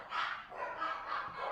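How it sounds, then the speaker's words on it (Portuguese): Several small dogs bark and yip repeatedly at moderate distance, a quick run of high-pitched barks that carries through the clip with no talking. "Meus cachorrinhos, deve ter chegado alguém."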